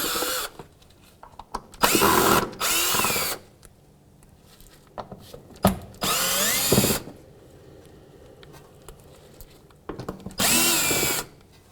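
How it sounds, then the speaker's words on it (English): Power drill backing out four Phillips screws from the front mud flap of a 2007-2013 Acura MDX, heard as loud separate whirring bursts with quiet pauses between them. "we're going to take out these 4 Phillips screws on our front mud flap"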